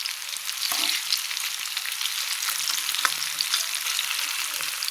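Raw plantain slices fry in a hot pan, giving a steady, close sizzle of oil crackle with scattered small pops and occasional stirring scrapes, with no speech.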